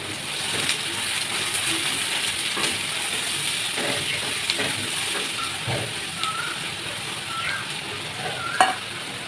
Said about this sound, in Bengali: তারপর পেঁয়াজ কুচিগুলো দিয়ে একটু বাদামি রঙের করে ভেজে নেব।